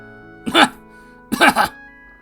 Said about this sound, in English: Please cough if you can hear me.